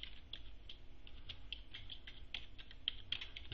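Faint, quick clicks of typing on a computer keyboard patter irregularly in short runs, quiet and close against low background hum, with no voices.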